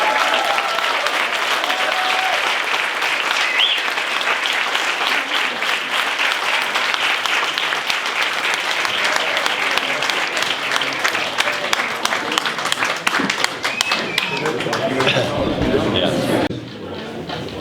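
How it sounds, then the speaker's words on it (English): Sustained, dense audience applause for a bodhrán drumming group at a traditional Irish music tribute concert in South Sligo, loud and continuous with faint voices mixed in, dropping off abruptly near the end. "So give you a big round of applause for the bodhrán group."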